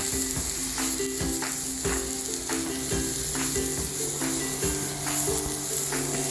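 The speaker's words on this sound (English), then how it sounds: "that's what you want to hear right there, that sizzle." Food sizzles loudly and steadily on a hot Himalayan salt block, a constant crackling hiss with small pops and occasional knocks, heard up close.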